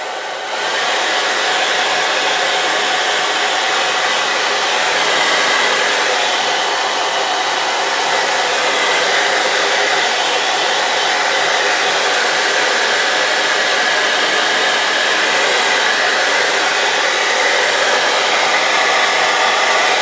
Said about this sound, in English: I'm going to blow dry that just a little bit.